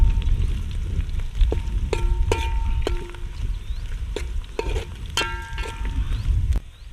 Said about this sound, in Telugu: ఇంకా ఉల్లిగడ్డ అయితే ఫ్రై అవుతుంది.